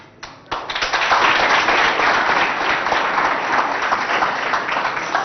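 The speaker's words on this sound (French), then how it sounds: "Cher public, il faut toujours applaudir." Sustained audience applause fills a school quiz contest between schools in Biltine, Chad, a dense wash of many hands clapping that starts abruptly and holds steady and loud throughout.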